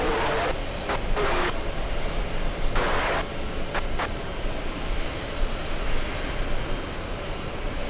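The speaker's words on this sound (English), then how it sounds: "We also have Delta 2934 flying in from Detroit to Michigan, landing in a few seconds." A Delta airliner on a flight from Detroit comes in to land at JFK, its jet engines making a loud, steady broadband roar that holds throughout without letting up.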